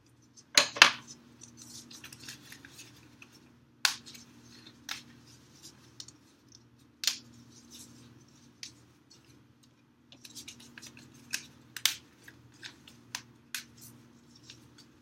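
Scissors snip through a foam sheet while cutting out a dragon wing piece, sharp isolated crunchy cuts spaced a few seconds apart over a quiet low hum, with faint rustling of the foam between snips.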